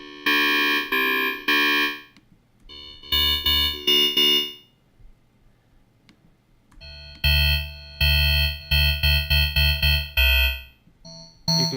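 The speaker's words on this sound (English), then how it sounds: "then we have this harmonic filter, which is very unique to this synth." The Thorn VST synth plays bright, buzzy preset patches through its harmonic filter in bursts of sustained notes and chords, with a brief quiet gap midway before punchier, rhythmic stabs return.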